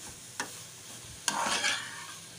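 Bread cubes are stirred through caramel in a pan, with a soft scrape and then a bright rising sizzle that swells and fades, close and unaccompanied by talk.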